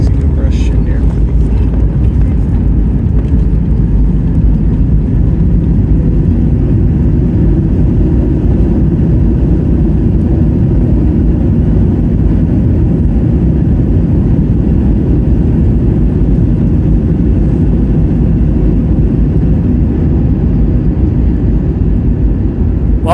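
A steady, heavy low rumble inside an airliner cabin landing at Toronto Pearson International Airport, with engine and airflow noise droning evenly throughout.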